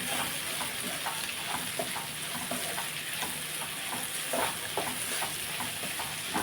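Crushed garlic and chili powder tempering fries in a pan with a steady, close sizzle and crackle, broken by repeated light scraping strokes of stirring throughout.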